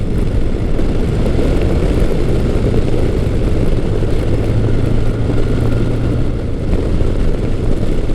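A steady, loud engine drone with a higher whine riding on it, continuous throughout as a carbureted Kawasaki Concours 1000 (GTR1000) motorcycle pulls hard out of a bend, no voices.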